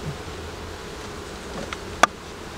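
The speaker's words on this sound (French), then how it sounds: "Il y a quelques abeilles qui circulent" A faint, low buzzing of a few bees circulating around a quiet hive, with a sharp click near the end.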